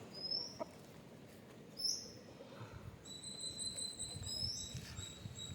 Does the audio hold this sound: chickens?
yes